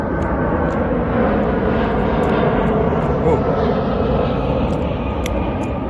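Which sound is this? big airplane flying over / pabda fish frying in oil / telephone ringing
big airplane flying over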